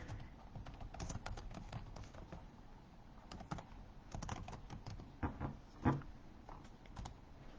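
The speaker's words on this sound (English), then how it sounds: "So I'm going to type that in here so you guys have that." Quiet, close keystrokes on a computer keyboard come in short irregular bursts of clicks with small pauses, a few taps a little louder than the rest, and no talking.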